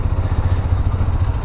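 A small borrowed 125cc motorcycle runs steadily, its engine giving a loud, close, continuous low rumble with no pauses or talk.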